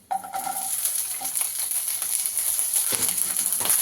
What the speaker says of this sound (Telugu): ఈ పచ్చిమిర్చి మంచిగా వేయించుకోవాలండి